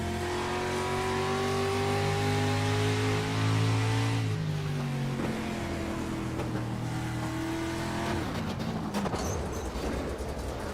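Street stock race car at Lanier National Speedway heard onboard, its engine droning loud and close with steady revs, then easing and shifting pitch as the car slows amid a crash, with scraping noise near the end.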